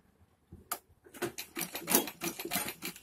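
A sewing machine stitches a padded designer blouse in short bursts, its rapid needle chatter starting after a brief pause and running in close, fairly loud rhythmic runs.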